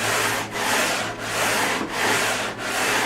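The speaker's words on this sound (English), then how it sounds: "I don't want to do too much sanding here" Sandpaper rubbing over a wooden Sig Ninja RC model airframe during a kit-bash build, in steady back-and-forth strokes about every second, close and fairly loud with no talking.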